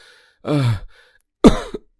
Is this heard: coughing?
yes